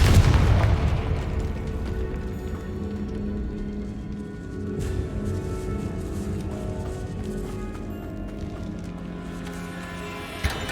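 A Confringo spell explosion in Hogwarts Legacy bursts with a heavy boom at the start, then fades into a lingering low rumble and ambient game sound.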